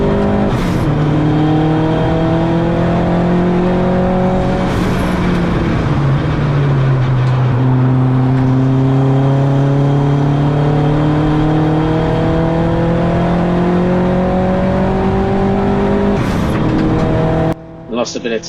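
Touring race car engines drone loudly and continuously at Donington Park, pitch shifting as cars pass and shift gears, with a brief burst of revving near the end.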